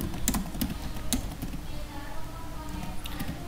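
Keys clatter on a computer keyboard as text is entered into an Excel sheet: quick clusters of crisp, close keystrokes with brief pauses, over a low background hiss.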